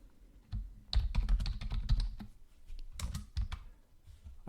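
Quick, uneven typing on a computer keyboard while writing a LibreOffice document, with bursts of close, soft key clicks separated by brief pauses and no talking.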